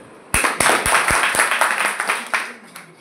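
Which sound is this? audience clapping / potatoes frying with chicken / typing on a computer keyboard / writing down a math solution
audience clapping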